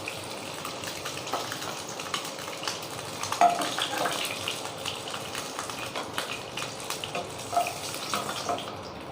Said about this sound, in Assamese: অকণমান খালি ৰঙা পৰাকৈ ভাজিছোঁ মই